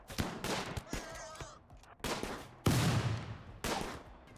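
Gunfire in the RimWorld video game comes as several sharp, separate bursts of shots, fairly loud and close, with short gaps between them and no talk.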